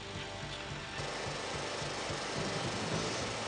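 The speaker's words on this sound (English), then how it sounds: "This unit is a self-propelled jackhammer rig." A self-propelled rig-mounted jackhammer drives steel bin stakes into a vineyard, giving a continuous rough pounding roar at a moderate distance, with no voices.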